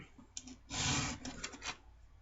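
A wooden knife scale rubbed against sandpaper glued to a block, giving a close, gritty rasp in one long stroke followed by a few shorter strokes.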